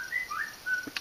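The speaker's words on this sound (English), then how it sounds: "Sorry about the phone there." A short phone notification chime during an outdoor camp stove review, a few clear high tones sounding faintly over quiet ambient background.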